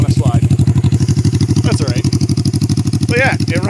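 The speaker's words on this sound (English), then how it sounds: "But yeah, it runs good. It idles real good." A 1982 Suzuki GS300 motorcycle engine idles close by, a loud, even, rapid low pulsing that holds steady throughout, with a voice speaking faintly over it.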